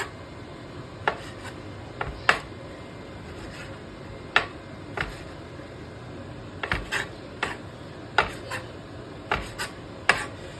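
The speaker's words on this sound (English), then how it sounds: "So cut it this way, into cubes, about half an inch of cubes." Knife cutting chicken into half-inch cubes for Japanese-style teriyaki, heard as a series of sharp, irregular taps and scrapes of the blade on a cutting board, close by, with no one talking.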